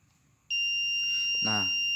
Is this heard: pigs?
no